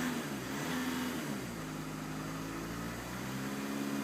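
A 2011 Audi A3 TDI diesel engine revs up to its limiter near 2,500 rpm and holds there, a steady mid-pitched engine drone with harmonic whine, close and continuous with no talking.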